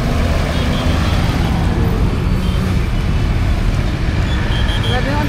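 Loud, continuous traffic rumbles from a dusty roadside, cars and trucks passing steadily, with a person talking under the din.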